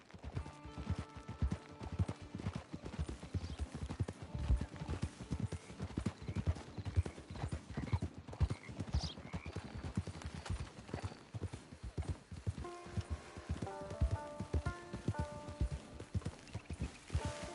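Steady horse hooves clip-clop in a fast rhythm across the whole stretch in the video game Red Dead, with tonal music playing underneath and a brief whinny.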